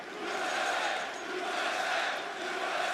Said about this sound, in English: Listening to the chants.